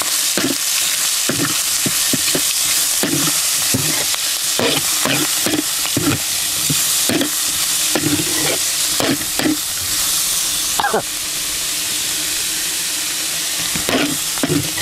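Food stir-fries in a hot pan with a loud, continuous sizzle and regular sharp knocks and scrapes of a spatula against the pan, close and rhythmic throughout.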